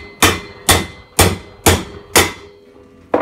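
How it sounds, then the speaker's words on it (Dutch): Six sharp plastic hammer blows ring out on a metal bicycle part while removing a cup, at a steady pace, each a loud clanking hit that fades quickly, with a pause before the last. "Ik gebruik nu even die plastic hamer."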